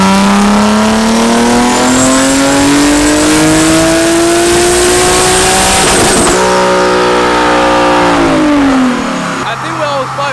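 A tuned Nissan 370Z V6 on a dyno screams through a long wide-open-throttle pull, pitch climbing steadily to a peak before the revs drop away, very loud and close with voices nearby.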